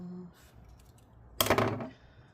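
Excess tape trimmed with scissors during a Razer Blade Stealth RZ09-0168 laptop disassembly, heard as one short, close snip-and-rip burst of about half a second after a quiet stretch.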